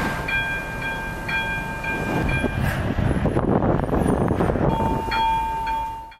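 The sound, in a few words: train passing at a railway crossing in Poland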